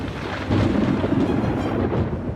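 Thunder from a major storm approaching Kokomo rumbles low and continuous, a loud rolling growl swelling slightly over a couple of seconds with a hiss of rain beneath, and no voices.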